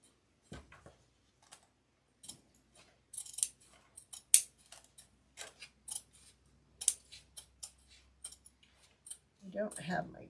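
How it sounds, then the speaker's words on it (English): Large scissors cut through fabric in a run of short crisp snips spaced irregularly, close and moderately loud, with a brief low rustle of the cloth near the end. "I don't have my good scissors in here, so I'm having to work with these monstrous ones."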